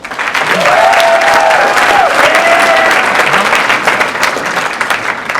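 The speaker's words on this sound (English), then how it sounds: "Can we just give them a round of applause?" A crowd at a 2015 rose pageant breaks into a loud, sustained round of applause honoring the pageant directors, steady clapping filling the room while a voice rises briefly over it.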